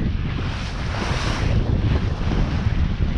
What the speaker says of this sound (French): On est à 20 nœuds là, pas plus, mais ça souffle.